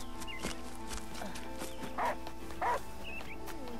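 A dog barks in Last Day of June, two short barks at moderate distance over steady ambient game sound with faint footstep-like taps.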